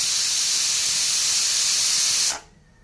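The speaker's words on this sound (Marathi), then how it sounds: "कुकरच्या 2 शिट्ट्या काढून घेतल्या मी" A pressure cooker cooking chicken masala vents a loud, continuous hissing whistle of steam close up for over two seconds before abruptly cutting off.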